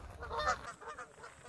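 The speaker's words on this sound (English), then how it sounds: "So we've got some geese just over there." A few geese honk at a distance outdoors, faint calls in a short burst over light background noise.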